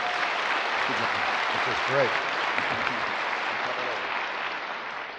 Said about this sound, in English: let's stop for a second and applaud everything they've said so far.